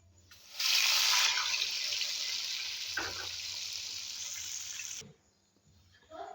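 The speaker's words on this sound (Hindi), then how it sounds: "तो मैं इसमें हाफ कप दूध डाल दूँगी" Half a cup of milk poured into rice roasting with cardamom for mutanjan, a steady loud splashing hiss from about 0.6 to 5 seconds, with a soft knock midway, then quiet, no talking.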